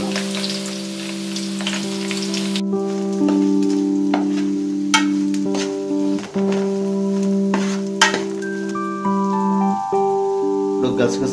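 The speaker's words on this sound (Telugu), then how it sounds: "సో ఇప్పుడు మనం కట్ చేసుకున్న ఉల్లిపాయలు పచ్చిమిరపకాయలు ఇందులో యాడ్ చేసుకుంటున్నాం." Chopped onions and green chillies sizzle in a pan, with a steady crackle under repeated stirring clatters and spoon knocks. Background tones and a voice can be heard now and then.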